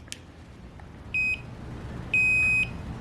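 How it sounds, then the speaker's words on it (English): Two high electronic beeps, the second longer, sound over quiet background noise, an e-bike turn signal indicator chiming, HappyRun G100PRO. "That's what the beeping is for. It lets you know that you have a blinker on."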